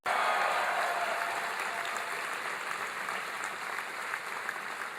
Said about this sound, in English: Give Barbara a big round of applause.